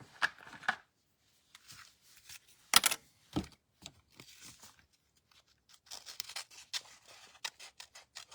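Scissors cut a piece out of a paper card for a Valentine's pop-up card, irregular snips and rustles close by, one louder crisp cut in the middle, then a string of quick small snips.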